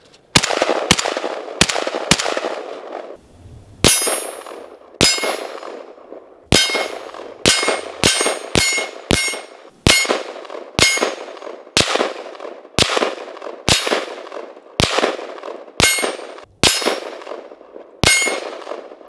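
A Zastava ZPAPM70 rifle fires outdoors in the snow. Close, loud shots crack with metallic clangs, first in a quick burst of four, then a string of single and double shots at uneven intervals, each with a short fading echo.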